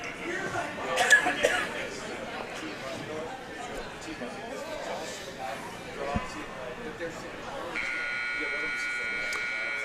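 A game timer buzzer at a curling sheet sounds as a steady electronic tone that starts partway through and holds to the end. Arena chatter and voices fill the background.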